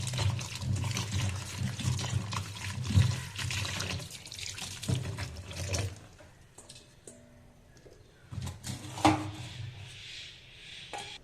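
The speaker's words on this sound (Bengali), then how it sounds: "চলো একটু ভালো করে এটা ধুয়ে নিই" Chopped mushrooms being washed in water in a kitchen, splashing and sloshing with faint clinks of a bowl, loud at first, then quieter with a few more splashes.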